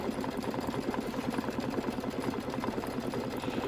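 Embroidery machine works a satin stitch for a watermelon chenille hot pad, a close, steady, rapid mechanical pulsing with even rhythm throughout.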